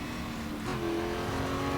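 The Duqueine D08 LMP3 race car's engine drones steadily and loudly in a racing game, holding a continuous tone with a slight rise in pitch and no pauses.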